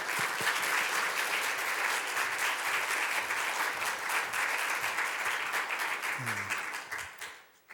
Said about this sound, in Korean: 우리 나오실 때 큰 박수로 같이 환영하시겠습니다.